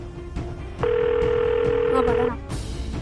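A steady telephone dial tone sounds continuously for about one and a half seconds, loud and close, with voices talking before and after it.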